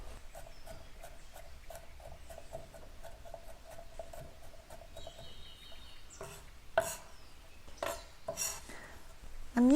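A knife chops garlic on a cutting board in a kitchen, with a rapid, even run of light taps followed by a few louder, sharper knocks and scrapes close by.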